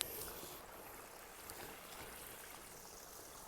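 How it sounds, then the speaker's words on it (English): Water flowing out near a lake on a flooded hiking trail, a steady soft rush of stream-like flow heard close by, constant and unbroken throughout with no talking. "there's a lot of water coming out of here as compared to up there"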